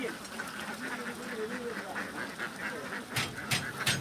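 A flock of about two thousand ducks quack repeatedly in a steady, busy chatter as they are released into a field, with a few louder bursts of noise near the end and faint voices in the background.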